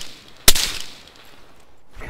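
A single sharp gunshot in the Arma 3 video game, loud and close with a short echoing tail, followed by quiet background and a faint onset of another sound at the end.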